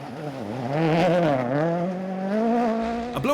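A Ford Fiesta WRC rally car at the 2019 Cork Forest Rally: a loud, close engine howl that rises and falls through gear changes, ending with a sharp crackle.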